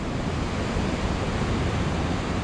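A mountain stream in Sikkim rushes past with a loud, continuous broadband roar of flowing water, steady and unbroken from start to finish, with no voices.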